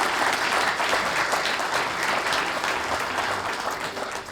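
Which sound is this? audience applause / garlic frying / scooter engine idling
audience applause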